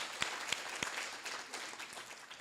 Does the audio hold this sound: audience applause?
yes